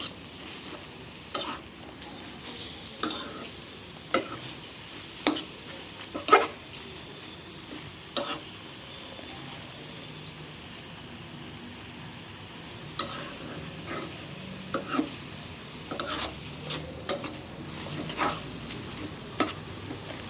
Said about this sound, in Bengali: যতক্ষণ ভাজা ভাজা না হবে ততক্ষণ লাড়বেন